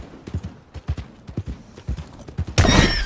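Galloping horse in the Red Dead video game, its hooves a steady rhythmic clip-clop at close range before a sudden loud crashing burst takes over at the end.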